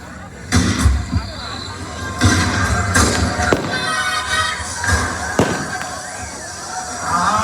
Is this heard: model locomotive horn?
no